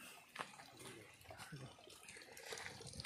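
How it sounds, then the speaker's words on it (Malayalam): Water rushes in a steady broadband roar at the Ramakkalmedu viewpoint waterfall, continuous and fairly close, with voices talking faintly over it. "വെള്ളച്ചാട്ടം വെള്ളച്ചാട്ടം"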